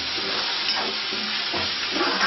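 Onion, tomato and coriander frying in a hot tempering for misal pav give a steady, close sizzle and crackle with faint stirring, and no voices.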